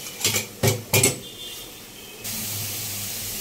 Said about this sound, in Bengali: এবার এটাকে ভালো করে কষানো হচ্ছে।